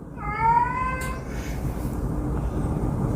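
Cat giving a single drawn-out meow, fairly close and clear, over a steady low background rumble that continues after the call ends.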